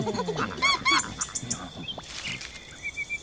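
A cartoon goose honks several times in quick bursts during an animated story scene, loud and close, with other light sound effects and background music around it.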